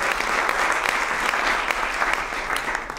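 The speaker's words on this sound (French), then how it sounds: "On l'applaudit pour l'encourager, s'il vous plaît." An audience claps to encourage a founder before a startup pitch at an awards event, with continuous, even applause from a room full of people, loud and close, and a faint low hum beneath.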